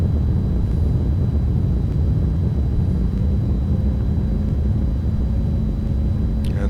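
An Embraer E175 jet landing in the X-Plane 10 flight simulator with thrust reversers deployed, producing a steady, loud, low roar that stays constant throughout.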